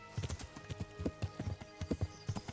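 Horse hooves clip-clop steadily in Kingdom Come Deliverance, a quick, even rhythm of close, moderately loud hoofbeats against a faint background hum.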